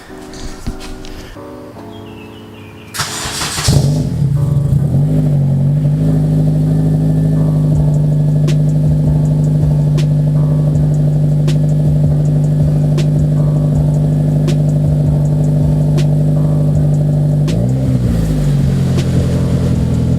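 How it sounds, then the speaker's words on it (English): An 8th gen Honda Civic, warmed up, starts and settles into a steady, loud idle, with a brief blip of revs near the end; a few faint clicks occur before start. "So I'm gonna give you guys an exhaust note of the car."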